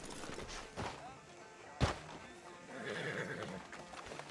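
A horse in Red Dead Redemption 2 neighs amid clip-clopping hooves, with a sharp thud in the middle and game ambience around it.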